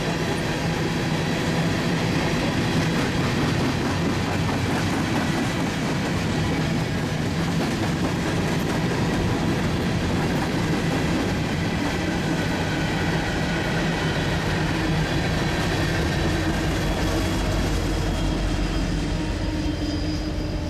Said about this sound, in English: A southbound Union Pacific stack train passes by our location.